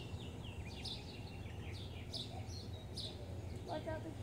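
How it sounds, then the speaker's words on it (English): Small birds chirp and tweet in short repeated bursts, moderately close, over a constant low background rumble, with no voices heard. "Watch out this bird too."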